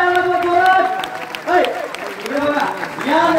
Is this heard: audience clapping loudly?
yes